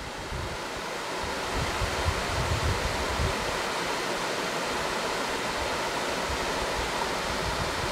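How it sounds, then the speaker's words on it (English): The waterfall at Dixon Springs roars in a constant, broad wash of falling water, steady and fairly close, with no voices over it. "And an even bigger waterfall up there."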